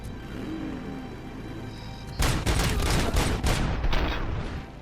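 Gunfire in the video game RoboCop: Rogue City, starting abruptly as a loud, dense volley of rapid shots and impacts that continues to the end after a quieter ambient stretch.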